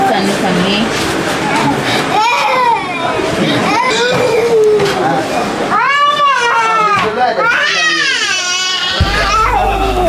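A two-year-old girl cries loudly and continuously before physiotherapy in a hospital corridor treatment area, her wailing rising and falling in long sobbing bursts, with a few other voices in the background.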